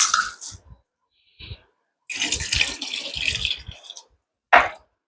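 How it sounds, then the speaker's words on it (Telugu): Bore water drawn by a pump outside pours into a container in separate bursts of splashing, close and fairly loud, with short pauses between the flows and no talking. "ఇది బయట ఒక పంపు పెట్టి లాగుతున్నాను దీంట్లోకి"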